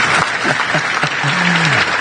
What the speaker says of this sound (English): please join me in a warm round of applause for Lieutenant Colonel retired James